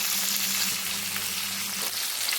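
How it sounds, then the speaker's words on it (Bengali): Chitol fish pieces frying in oil, a steady dense sizzle with a low hum running beneath it, close and continuous with no voices. "মাছের এক পাশ আমার ভাজা হয়ে গিয়েছে, আমি এখন পাশ উল্টে দেব।"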